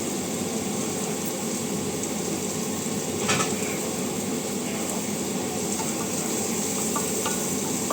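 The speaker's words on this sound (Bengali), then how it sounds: "পেঁয়াজ, তেজপাতা, দারুচিনি, একটু রসুন দিয়েছি। একটু ভাজা ভাজা হয়ে যাক।" Onion, bay leaf, cinnamon and garlic frying in a pan for chicken stew, giving a dense, even hiss of sizzling oil with faint occasional stirring knocks.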